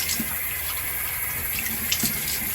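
Tap water running steadily into a sink during a face rinse with cold water, a constant close splashing stream with a few brief spatters as hands move through it.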